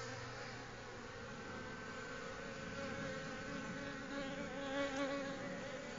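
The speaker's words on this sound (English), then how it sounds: "I see the bees, they're a little stirred up and not too bad" Honeybees buzz steadily around an exposed hive being extracted from behind a fascia board, a dense, continuous drone of many insects close by that swells slightly toward the end.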